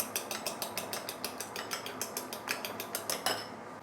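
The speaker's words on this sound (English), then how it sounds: "Break the egg first and then mix it up." An egg is whisked in a bowl for fried rice with sausages, a fast, even series of light rhythmic clicks and taps of utensil on bowl, close and alone without talk.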